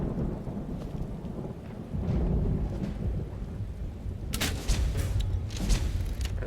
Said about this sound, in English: These lightning strikes are slightly concerning.